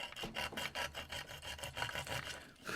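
An abrasive cord like sandpaper on a rope is drawn back and forth through the string holes of a Fender electric mandolin, giving quiet, close, rhythmic rasping strokes with no talk.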